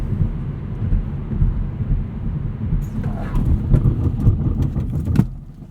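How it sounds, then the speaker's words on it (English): A 2017 Hyundai Elantra Sport with a 7-speed dual-clutch gearbox brakes hard from 60: steady road and tire rumble inside the cabin, then a few sharp knocks and clicks as the car comes to a stop and the noise fades. "I'll show you what the brakes are like from 60."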